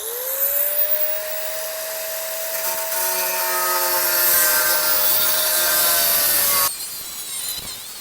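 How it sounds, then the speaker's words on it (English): Metal cutting on the floor of a 1971 Chevrolet Nova: a loud, close, continuous high-pitched whine with steady grinding tone for nearly seven seconds, then abruptly dropping to quieter rasping. "All right, so I'm gonna do some cutting and some drilling."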